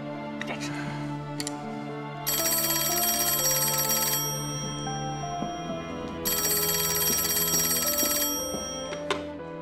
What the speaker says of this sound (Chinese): 小梅啊，电话。